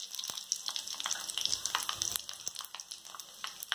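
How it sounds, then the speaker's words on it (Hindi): Fenugreek seeds and cumin crackle and spatter in hot oil for a kadhi pakoda tempering, a steady close sizzle broken by sharp popping bursts throughout. "हमारा तेल गर्म हो गया। अब इसमें आप मेथी दाना और ये जीरा डाल दीजिए।"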